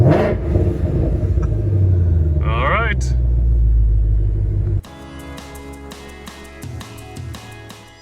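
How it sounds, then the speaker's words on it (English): A 2020 Ford Shelby GT500 engine rumbles loudly up close, swelling in a strong rev before dropping back to a lower, quieter running note, with a voice speaking briefly. "I'm going to try revving it and see if it works."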